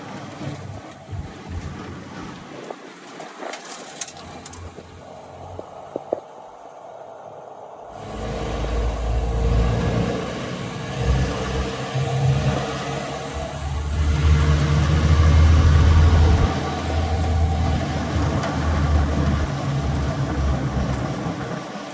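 A 1964 Land Rover Series IIA with a four-cylinder engine cruises in third gear at low speed, its steady mid-pitched drone and low rumble rising after a quieter, patchy opening and holding fairly loud throughout.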